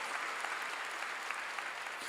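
Congregation applauds during a church sermon, a steady bed of distant, moderately quiet clapping from many hands with no pauses.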